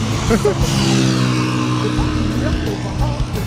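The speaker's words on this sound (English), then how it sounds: "you can see the traffic situation here in Greater Accra" Busy road traffic in Greater Accra, with car engines droning and revving close by in a steady, loud wash of vehicle noise; no clear voices stand out over it.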